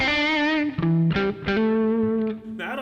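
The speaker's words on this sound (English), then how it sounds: "the Flyrig has some built-in distortion, so it has that plexi thing" Electric guitar through the built-in plexi distortion of a Tech 21 Fly Rig 5 plays a few sustained, gritty notes that shift pitch, mildly overdriven and alone, with no voices.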